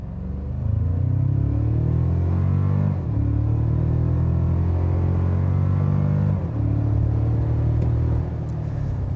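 A 2024 Toyota Tacoma TRD Pro hybrid pickup floored at full throttle: a loud, steady engine roar climbs in pitch, drops at two gear shifts, and climbs again, heard from inside the truck.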